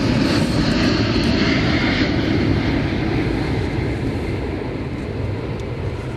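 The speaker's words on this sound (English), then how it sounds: "with the space shuttle taxiing down the runway and taking off to the east-northeast" NASA's carrier aircraft with Space Shuttle Atlantis mounted on top takes off to the east-northeast from a runway in Amarillo, a loud, steady jet engine roar holding for several seconds and slowly fading, with no talking.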